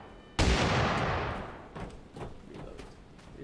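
Single close, loud shotgun blast in the game Totally Accurate Battlegrounds, a sharp crack with a booming tail that decays over a second or two, followed by fainter thumps.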